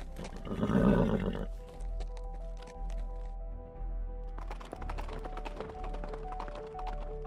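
A small domestic horse gives a loud whinny, followed by scattered hoof clip-clops and taps on the ground, then quicker hoofbeats, fairly close.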